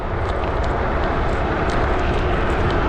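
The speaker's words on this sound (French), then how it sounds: "Ah, il y a du vent les gars, vous allez l'entendre à mon avis." Rushing wind buffets the rider on an electric scooter along a rough country road, a dense, constant roar filling the whole stretch with no voices.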